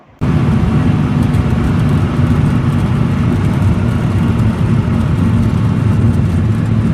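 A car engine in an animated cartoon runs at a steady, loud idle-like drone, starting abruptly and holding evenly throughout with no talk.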